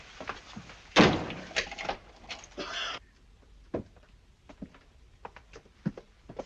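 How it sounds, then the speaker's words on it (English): A ship's cabin door shuts with a sharp bang, followed by a latch and key clicks as it is locked, then soft footsteps and small knocks in a quiet room. "Lock the door, will you?"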